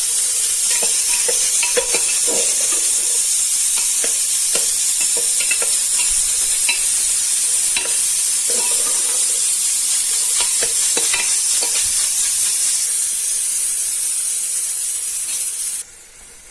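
Papaya halwa with raisins and cashews being stirred in a pan: a steady hiss of cooking with repeated scraping strokes of a spoon across the pan, fairly close, cutting off quieter at the end.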